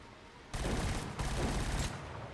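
Sniper gunfire in the video game Killzone Shadow Fall: a sudden loud burst of shots begins after a quiet lead-in, continuing in dense, close bursts with a brief dip midway.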